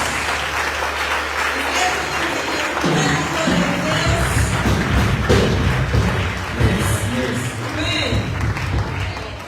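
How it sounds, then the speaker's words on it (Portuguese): A church congregation claps loudly together for the glory of God, a dense mass of hands over low booming thumps from the hall, with voices and shouts mixed in throughout. "As palmas é pela glória de Deus."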